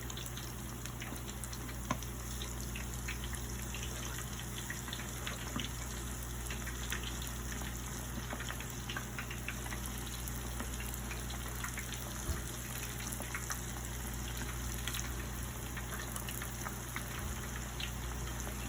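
Buffalo chicken wings deep-frying in hot oil under a splatter screen, a steady faint bubbling hiss with scattered crackles and pops throughout, no talking.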